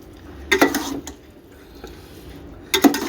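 A spoon mixing rice and crushed chillies in a metal pot, making two loud clattering bursts of scraping and knocking against the pot with quieter stirring between them, close and with no voices.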